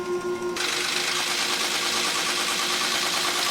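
Ford 4610 three-cylinder diesel tractor engine running steadily after a Lucas/CAV injection pump rebuild, a loud, continuous rough mechanical clatter that starts abruptly and holds even, with no talk.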